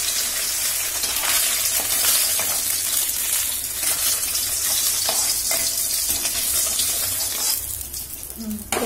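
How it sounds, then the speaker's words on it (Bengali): Pieces of katla fish fry in hot oil with a loud, steady close sizzle and bubbling, broken by occasional scraping stirs, easing slightly near the end. "এই মাছগুলো ভেজে তুলে নিলাম হচ্ছে"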